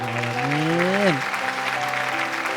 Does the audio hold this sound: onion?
no